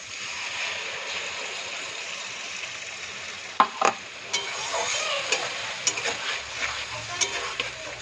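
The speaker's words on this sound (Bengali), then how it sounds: "এবার মশলাটা রেডি করে রেখেছিলাম" Prepared spice paste added to fried onions in a wok for chicken curry: a steady close sizzle, broken by a few sharp knocks and scrapes as it is stirred, without talking.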